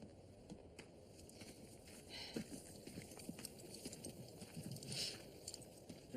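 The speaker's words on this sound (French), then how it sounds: "Un joli cheval." Horse hooves clip-clopping at a walking pace, a faint, irregular series of soft knocks over quiet background hiss, with no speech.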